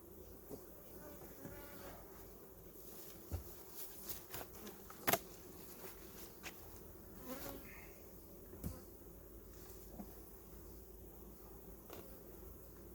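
Honey bees buzzing around a package beehive, a steady low hum with faint scattered ticks and bumps throughout, no voices.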